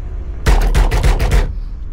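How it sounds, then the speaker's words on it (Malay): Rapid run of about six sharp, loud knocks struck with both hands to free a Perodua Myvi or Alza steering wheel, closely spaced over roughly one second, with no talk. "Saya kena guna dua tangan untuk ketuk."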